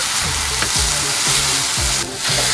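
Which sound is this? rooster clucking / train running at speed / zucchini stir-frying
zucchini stir-frying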